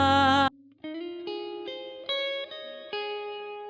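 Clean electric guitar riff notes drenched in reverb, picked one after another in a slow, even rhythm with ringing sustain, following a brief loud chord, alone without voices.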